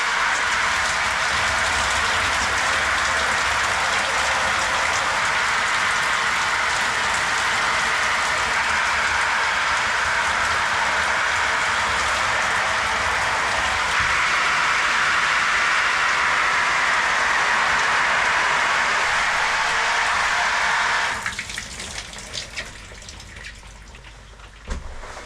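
Cold water pours over a person outdoors in a continuous, loud splashing rush for about twenty seconds, then cuts off abruptly, leaving scattered drips and trickles.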